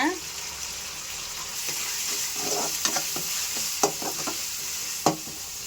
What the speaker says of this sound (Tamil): எறா போட்டு நல்லா வதக்கிட்டு